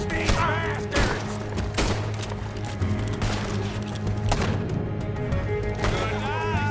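Gunfire in the Red Dead Redemption II video game, a rapid run of sharp shots and thuds over a continuous music and effects bed, with no break in the action.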